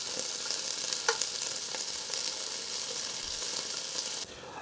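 Cubes of beef, a little over a pound, browning in oil in a pot for kale soup, giving a bright, continuous sizzle with occasional pops and stirring clinks, quieter for the final moment.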